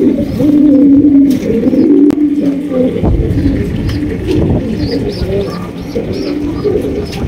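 Several pigeons coo steadily and loudly nearby, overlapping low throaty calls with occasional faint chirps and clicks in the background.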